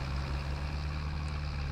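Steady, close tractor engine running continuously with a tractor-mounted mulcher attached, a constant low droning hum with no pauses or voices.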